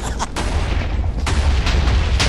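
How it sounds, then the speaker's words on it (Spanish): Rapid bursts of booming blasts and gunfire-like cracks over a low rumble, loud and continuous, from explosions in a Minecraft Hunger Games match with an antimatter bomb. "para explosiones por todos lados"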